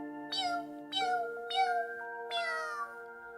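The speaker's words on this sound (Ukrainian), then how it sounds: "дівчатко почуло над собою жалібне мяу" A small cat meows four times in a row, plaintive and close, each cry drawn out with short pauses between, in a quiet setting.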